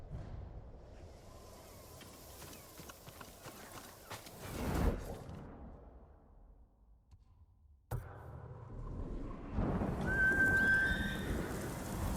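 A horse whinnies in Ghost of Tsushima over game music and ambient rustling, with a sharp swell midway and a bright tonal call near the end.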